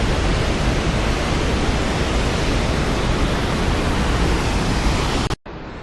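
A waterfall in Yosemite park roars as a loud, steady, broadband rush of falling water, unbroken until a brief cut near the end.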